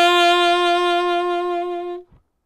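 A single sustained saxophone note, a low D held alone for about two seconds with a rich, reedy tone, then released cleanly into silence.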